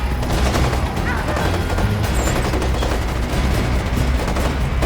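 Bursts of automatic gunfire and rapid shots crackle in the tactical shooter Ghost Recon Advanced Warfighter 2, dense and loud throughout with soldiers' radio chatter mixed underneath.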